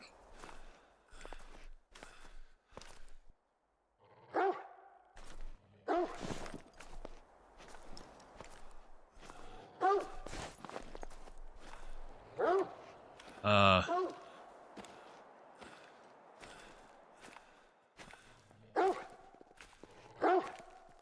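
A dog in theHunter: Call of the Wild barks in repeated short bursts, with footsteps and someone talking over the game sounds.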